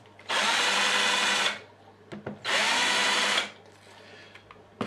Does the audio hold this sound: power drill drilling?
yes